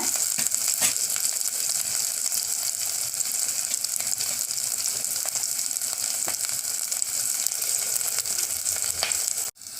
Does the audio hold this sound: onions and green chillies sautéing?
yes